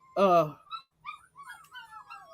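A dog gives one loud bark followed by a string of high, whiny yips and whimpers, near and fairly quiet overall.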